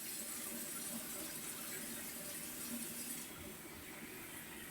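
Tap water runs steadily over food being rinsed at a kitchen sink while a chicken and rice tagine is prepared, a continuous close hiss and splash with no talking.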